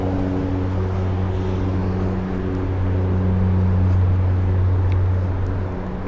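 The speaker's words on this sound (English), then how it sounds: "Float plane, seaplane." A seaplane flies over a noisy city in New York, its steady droning engine blending into constant traffic and bridge rumble with no clear rise or fall.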